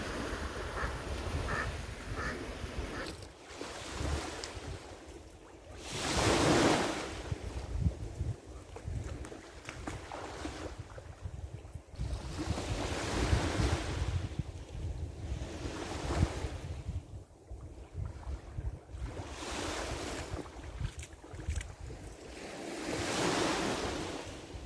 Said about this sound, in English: this is Newfoundland, clean waters, and I'm at a beautiful beach